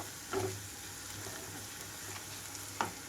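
Ginger garlic paste fries in a pan for a gongura prawn curry, a steady low sizzle with a couple of brief stirring scrapes and no voices.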